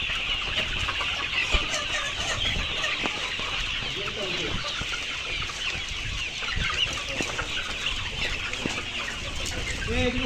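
Layer hens at a poultry farm in Kushtia cluck constantly, a dense chorus of overlapping clucks and squawks from many birds close by, steady and unbroken for the whole stretch.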